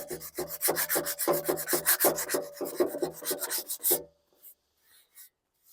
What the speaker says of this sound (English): So then I'd do more sanding.